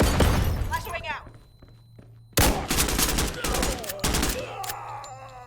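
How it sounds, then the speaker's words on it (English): Rapid bursts of automatic gunfire from the tactical shooter game Door Kickers 2, loud and close with sharp crackling volleys, a short lull, then renewed heavy firing into a hallway; voices talk in the gaps. "my man's just dumping fire into that hallway"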